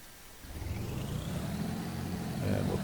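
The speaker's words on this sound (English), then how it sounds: "we'll start the right-hand engine first" The right-hand engine of a Beech Baron starts in the X-Plane 11 flight simulator, a low droning rumble that builds steadily and grows slightly louder toward the end.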